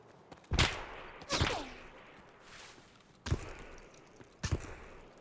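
Four stray gunshots ring out in the video game Escape From Tarkov, sharp, distant, loud cracks spaced irregularly across a few seconds, each trailing into a brief echo, with no talking.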